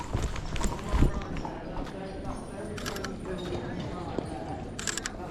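A horse and cart clip-clop along a city street, with hoofbeats sounding at moderate distance among traffic noise while a person talks over them, and a camera shutter clicks now and then.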